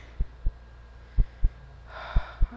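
A video game heartbeat gives three deep, close lub-dub double thumps at a steady, unhurried pace, with a brief breathy rush between the last two beats and no speech.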